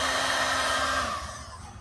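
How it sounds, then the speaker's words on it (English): A hair dryer runs close by with a steady, loud whooshing hum for over a second, then its pitch drops and it fades as it is switched off. "You could use a hair dryer, like I said."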